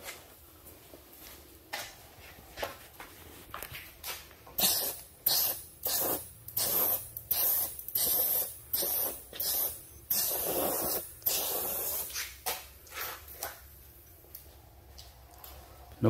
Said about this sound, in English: And it's cool that you spray that side and you can see it cling onto this side.